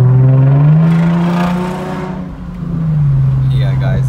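A Lexus fitted with an Apexi throttle controller accelerates in sport mode, engine tone climbing and falling with a shift near the middle before rising again, close and fairly loud inside the cabin with faint talk.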